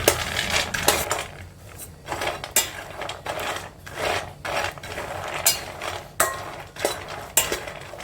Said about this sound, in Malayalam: കടല നമുക്കൊന്ന് വറുത്തെടുക്കാം